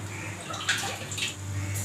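Water poured from a measuring cup into a pot while preparing paal kozhukattai in a home kitchen, a steady close splashing stream with slight surges, alone without talk.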